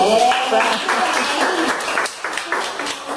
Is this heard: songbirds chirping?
no